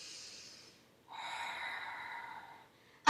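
Breathing during a Pilates exercise: a soft breath, a pause, then a longer, steady, airy exhale lasting about a second and a half, close and clear with no talking.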